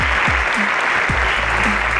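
Steady applause from a school audience at a Nigerian inter-school quiz show, loud and continuous throughout, with a few brief voice fragments poking through the clapping.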